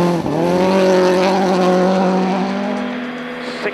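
A Toyota Yaris AP4 rally car at full throttle on a rally stage, its loud engine holding a steady high roar close by before easing off slightly near the end.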